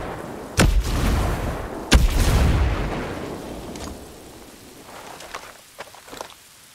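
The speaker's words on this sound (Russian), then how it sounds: "Бросаю гранату!" Blasts in the video game Ghost Recon Breakpoint, two sharp, loud detonations close together with rumbling debris after each, fading into quieter scattered pops and crackles.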